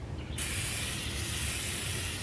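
Aerosol can spraying onto a part of a Ford Focus, a sudden loud, steady hiss that starts abruptly and continues without a break, close up, with no talk.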